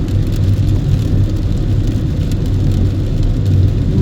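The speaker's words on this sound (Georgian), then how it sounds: "ეს მზე გაქრა და წამოვიდა წვიმა" Rain drums on a moving car, a loud, continuous hiss of drops layered over the low rumble of the car driving along, with no talking.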